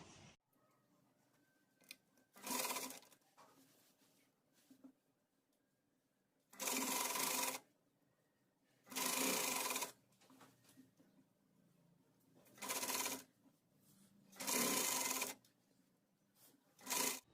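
A sewing machine stitches the flare of an umbrella frock at half an inch, running in five or six short loud bursts of whirring separated by quiet pauses with faint handling sounds.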